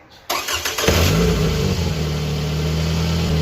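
A 2007 Toyota Camry engine, just fitted with a new catalytic converter after a misfire, cranks briefly, catches and roars up in a loud rev, then settles into a steady, rumbling idle close by.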